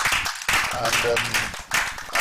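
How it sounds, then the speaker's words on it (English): Brief round of applause from a studio audience at a live TV roundtable, clapping bursts broken by short gaps, with a voice talking over part of it. "we hold this man a big round of applause"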